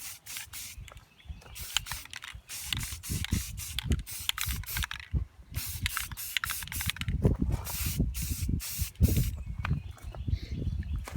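Aerosol spray paint laid down as a camouflage base coat on a gun outdoors, heard as repeated hissing bursts of varying length with short gaps between them, fairly close, with faint clicks and rustling.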